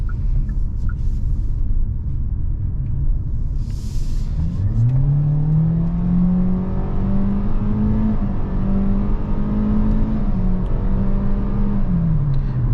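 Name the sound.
2024 Hyundai Kona SEL accelerating on highway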